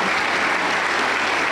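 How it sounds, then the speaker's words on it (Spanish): Sustained applause from a Pentecostal church congregation during a Monday testimony service, a dense steady wash of clapping filling the room with no pauses. "aplauso para el Señor Jesús"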